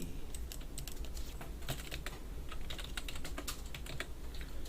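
Rapid, continuous clicking of keys on a computer keyboard as a command is typed, close and steady with no talking.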